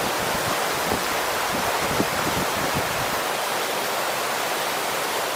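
Loud, steady roar of rushing water from a waterfall at a landscape photography spot, a dense continuous wash of sound with some low rumbling bursts early on, close and unbroken throughout.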